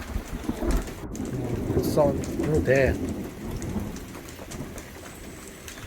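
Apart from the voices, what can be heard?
thunder and rain at a nature reserve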